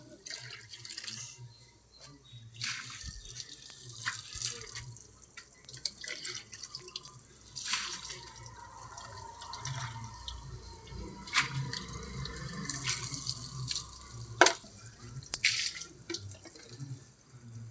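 Running water splashes and drips steadily while a pigeon cage is washed, with intermittent louder splashes and some faint background activity.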